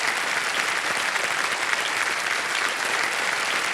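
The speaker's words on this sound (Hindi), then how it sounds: "तालियां बज जाएं इनके लिए।" A studio audience on the game show Kaun Banega Crorepati season 15 breaks into dense, steady applause, a continuous loud wash of many hands clapping together with no voices on top.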